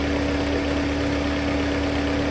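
Opel Vectra engine idling below 1000 rpm with its oil warning lamp lit, a steady close low hum with a constant tone and faint uneven pulsing throughout, no voices.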